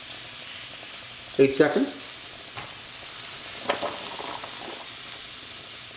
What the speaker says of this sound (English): Then we add the soy sauce and the steak back into the mix.